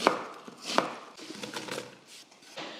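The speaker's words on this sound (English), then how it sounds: "so I can cut these pretty big" A knife chops vegetables on a cutting board for a slow cooker, with sharp close strikes at a loose irregular rhythm and softer knocks and scrapes between them.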